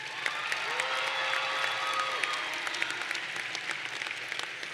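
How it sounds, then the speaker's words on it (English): Applause from a university fall commencement audience thanking their supporters: steady crowd clapping with a brief whoop or shout rising over it, then easing slightly. "Would you applaud your supporters?"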